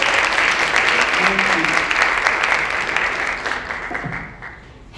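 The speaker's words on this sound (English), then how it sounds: "Can I get one more clap?" An audience at a school awards celebration claps in a dense, loud burst of applause that holds steady and then thins out and fades toward the end.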